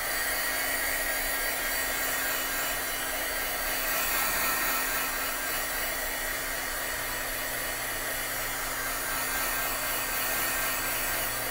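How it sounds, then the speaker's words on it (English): A handheld heat tool blows hot air to dry ink on a stamped paper craft project, a loud, steady whirring fan hum running unbroken and close throughout. "you're going to take your heat tool and dry that off"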